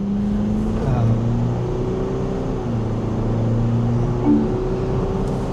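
An MG Majestor SUV engine hums steadily with rising tonal whine as it accelerates in sport mode, heard from inside the cabin, with brief talk over it.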